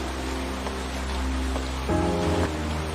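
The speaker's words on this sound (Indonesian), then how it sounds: "Di bawah payung yang menaungi mereka dari derasnya hujan" Heavy rain pours onto an umbrella in the animated series Battle Through the Heavens, a dense, steady hiss mixed with sustained musical tones and no voices.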